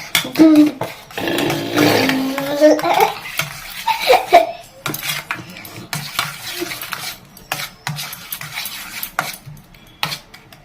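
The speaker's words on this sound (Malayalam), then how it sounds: "നമ്മുടെ സ്പൂൺ ബീറ്ററുകൊണ്ട് നമുക്ക് ഇളക്കി കൊടുക്കാം" Eggs for an omelette beaten in a bowl with a spoon beater: rapid, close whisking and clattering against the bowl in uneven bursts, with occasional clinks and quieter pauses between rounds of stirring.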